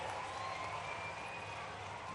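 Audience at a public government event clapping, a steady even wash of applause at moderate distance with no voices over it.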